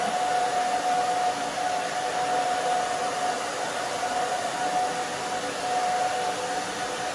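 A handheld hair dryer blows hot air over root lifter product in short bob-cut hair, a steady broadband roar with a faint whine, running continuously at close range and nearly level in loudness.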